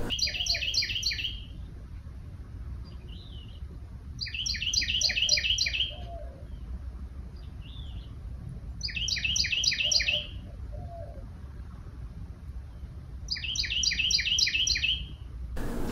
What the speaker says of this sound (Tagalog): Huni ng ibon ang naririnig ko.